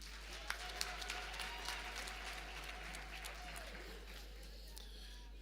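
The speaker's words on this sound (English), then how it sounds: "Can you give him a round of applause" Faint, distant applause from the audience at a college graduation ceremony, heard over a steady electrical hum, with a few sharper claps standing out near the start.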